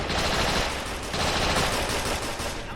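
A machine gun crew fires steadily in a Men of War: Assault Squad 2 Stalingrad battle, a loud, continuous rattling burst with dense, overlapping shots and the rumble of surrounding combat throughout.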